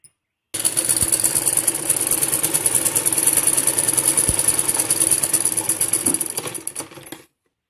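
Electric sewing machine stitching a long seam on a salwar from waist down to the bottom hem, a steady close whirring drone with fast needle clatter running continuously for about seven seconds before stopping.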